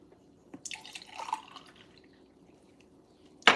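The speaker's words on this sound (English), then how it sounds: "I'm pouring up another little cup of" A drink pours into a small cup, brief splashing and trickling up close that rises for about a second, then quiet, ending with a sharp clink or tap at the end; no one speaks.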